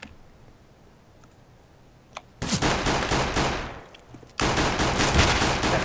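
Rapid Glock pistol fire in the video game CS:GO, sounding as two dense, loud bursts of shots after a quiet stretch with a few faint clicks.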